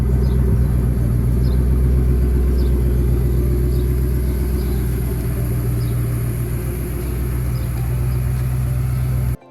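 A freshly rebuilt Ford Mustang engine runs close by for the first time, idling in a loud, steady, deep rumble with no talking, then stops abruptly.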